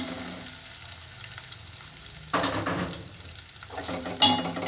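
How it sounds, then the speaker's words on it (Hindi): Taro pieces dropped into a hot pan with carom seeds set off a sudden burst of sizzling, with utensil clatter, fading and then flaring again with a sharp metallic clink near the end. "अब इसमें मैं ये अरवियाँ डाल दूँगी।"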